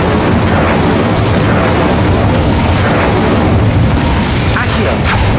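An Incendio fire spell cast in the Hogwarts Legacy video game, a loud, dense roaring blast that fills the clip with a continuous booming rumble, mixed with other game sound.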